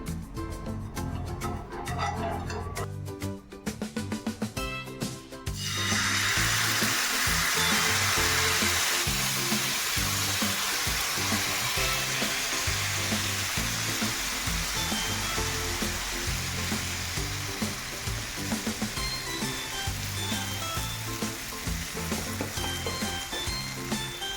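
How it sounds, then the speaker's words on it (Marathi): Oil hits a hot griddle for ghavane and breaks into a loud, steady hiss that keeps going unbroken after a few seconds of quieter crackling. "आता आपण तवा गरम करून घेतलेला आहे आता आपण थोडं तेल सोडूया ह्याच्यावरती"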